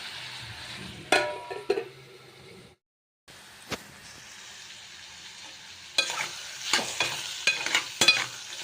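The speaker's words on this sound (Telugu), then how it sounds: "ఇలా దోరగా వేయించుకుందాం. ఇది దోరగా మగ్గనిద్దాం ఫ్రెండ్స్." Carrot and radish fry together in a pan, giving a continuous near sizzle with bursts of spatula scraping, a brief silent gap, then a denser run of stirring clatter.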